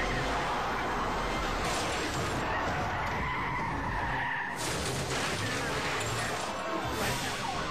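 A police cruiser nudges a fleeing car into a spin at an intersection, tires skidding and squealing loudly in a sustained screech with broadband roar, a brief dip midway, then more tire noise and engine rush continuing to the end.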